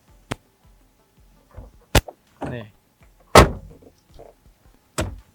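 Third-row seat in a Toyota Voxy being folded, giving a few sharp mechanical clacks and thumps spaced over several seconds, close and fairly loud, with a brief word of speech between them.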